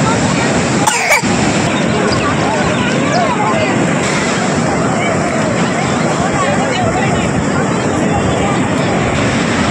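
Large morning sea waves break on Puri beach as a constant, loud, broadband roar that fills the scene without pause, with people talking over it.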